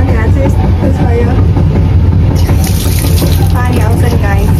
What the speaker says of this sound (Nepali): पानी आउँछ नि